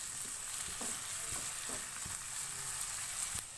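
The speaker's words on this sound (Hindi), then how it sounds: "प्याज के साथ इसको भून लेंगे।" Garlic ginger paste frying with onions in a pan, a steady close sizzle with a few soft stirring scrapes and clicks, no talk.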